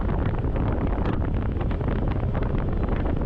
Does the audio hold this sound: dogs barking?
no